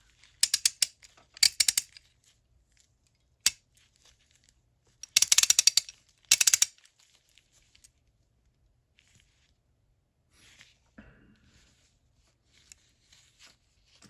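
Half-inch drive Westline ratchet from Western Auto clicking its pawl mechanism in several short bursts of rapid crisp ticks, close up, separated by quiet gaps, with a few faint handling sounds later.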